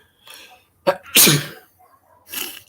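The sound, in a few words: sneeze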